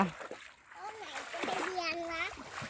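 Water splashed by hand in a Mekong riverside shallows while catching small fish, a few close splashes mixed with a child's and adult's voices talking over them.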